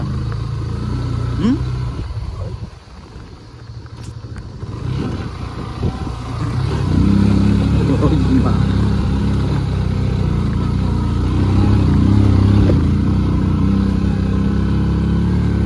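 A motorcycle engine labours uphill on a local hill road at Ismakot, a steady mid-pitched drone that grows louder and fuller about halfway through and holds under occasional voices.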